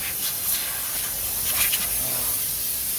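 Gasoline sprays onto a car engine during cleaning, a continuous airy hiss with slight surges, heard up close with no talking.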